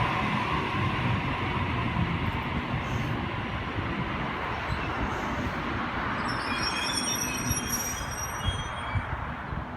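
A Sydney Waratah electric train, set A56, pulls out of Rhodes station with a steady broad rumble of wheels and traction, high metallic wheel squeal joining near the end.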